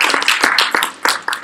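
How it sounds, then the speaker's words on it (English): A burst of audience applause, many hands clapping in quick irregular patter, close and loud for a moment. "Give her a round of applause."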